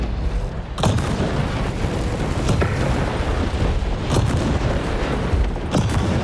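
Auto cannons firing in the War Robots Frontiers game, loud heavy booming shots spaced irregularly every second or so, over a constant dense rumble of mechanical noise.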